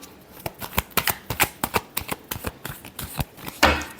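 Tarot cards being shuffled, a quick irregular run of crisp riffling snaps and flicks, close and clear, with a louder slap near the end.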